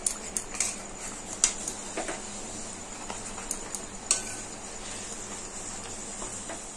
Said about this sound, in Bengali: এবার আমি একটু আস্তে আস্তে নেড়ে দেব যেন তলায় লেগে না যায়।